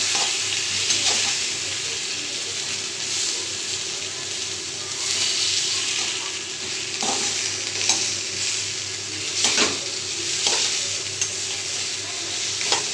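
A fish head fries in a pan of oil, a loud, steady close sizzle lasting the whole time, with a few brief clicks and scrapes on top and no talking.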